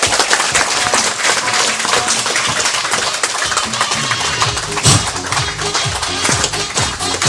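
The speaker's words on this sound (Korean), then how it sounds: "모두 뜨거운 박수로 황명수 대표이사님을 맞이하도록 하겠습니다." Audience applause welcoming the CEO of Longevity Korea onto the stage at a corporate seminar, a steady dense clatter of many hands filling the room throughout, with some tapping and shuffling in the mix.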